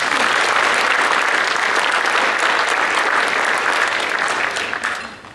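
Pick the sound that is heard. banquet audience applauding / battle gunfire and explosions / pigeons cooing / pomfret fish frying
banquet audience applauding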